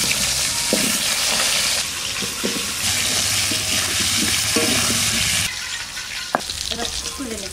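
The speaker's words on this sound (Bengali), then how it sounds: "মাছ ভাজা হয়ে গেছে, ওই তেলের মধ্যে আমি এই আলু কটা ভেজে নেব।" Potatoes fry in the oil left over after frying fish in a Bengali village kitchen, a loud, continuous sizzle with stirring scrapes and occasional clinks, briefly shifting in tone as the pieces are moved.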